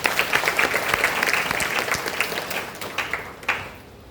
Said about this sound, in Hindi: दीदी के लिए जोर से तालियां।